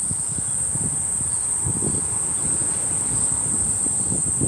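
Summer cicadas in a Tokyo park drone as a continuous high, steady whine, with low rustling and footstep-like shuffles underneath during a walk.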